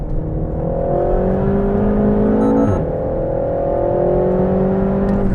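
A 300bhp RenaultSport Megane Trophy with an automatic gearbox is driven hard on a race track, its engine droning loud and steady from inside the car, with a brief dip and climb in pitch midway as it shifts gear.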